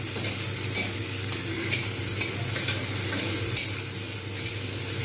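Shrimp and bottle gourd greens sizzle in a pan for a chorchori, giving an even, continuous frying hiss close by, with faint stirring taps throughout and no talk.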